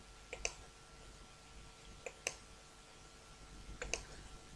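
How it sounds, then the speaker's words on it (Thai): A computer mouse clicks a few times, quiet and close, in small clustered pairs spaced a couple of seconds apart over a faint room hum. "คลิกตรงนี้นะคะ"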